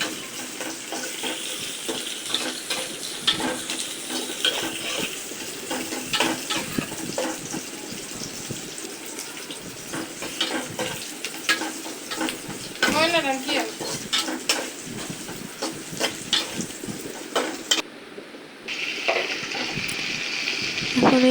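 Shrimp sizzle in a pan as they are stirred, a busy crackling fry with scraping utensil strokes throughout and a short lull near the end. A voice talks faintly underneath.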